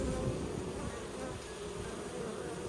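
Bees buzz continuously in a closed transport box with a screened bottom. The hum is steady, dense and moderately quiet, with no voices.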